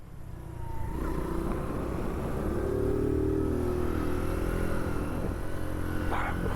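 A Mash 125 Seventy Scrambler motorcycle rides along with a steady, droning engine note that builds over the first second and then holds a rising then falling rev, close and continuous with wind noise.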